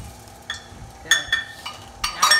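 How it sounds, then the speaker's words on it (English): Half a cup of chocolate chips tumbles into cookie batter in a mixing bowl, giving a few light clinks and soft clatters against a quiet room background. "about a half a cup of chocolate chips. Dump them in there for me."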